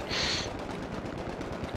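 Rapid automatic gunfire in Battlefield 3 on the Operation Firestorm map, a dense steady burst of shots with a sharp crackle at the start, loud and continuous throughout.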